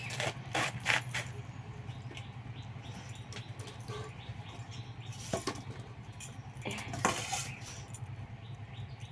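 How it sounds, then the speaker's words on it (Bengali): A knife chopping cabbage on a board while cooking, faint quick cuts in short bursts over a low steady background hum. "এই যে বাঁধাকপি কাটছি"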